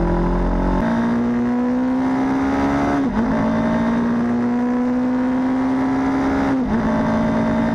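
A motorcycle engine revs up steadily through the gears in clutchless upshifts, its tone climbing then dropping sharply at each shift, twice in the clip, loud and close with no talk.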